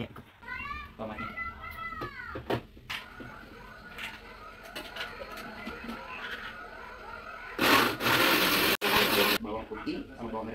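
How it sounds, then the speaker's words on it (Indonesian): A kitchen blender whirs through tomatoes in a short, loud, steady burst late in the clip, after children's voices and household chatter. "Oke, kita blender dulu ya tomatnya."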